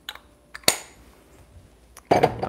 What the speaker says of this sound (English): I'm just gonna just take the portafilter filter basket out, just replace with, I'm gonna use a non-pressurized basket